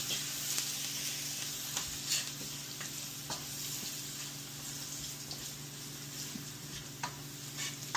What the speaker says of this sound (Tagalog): Gisa lang po natin yan.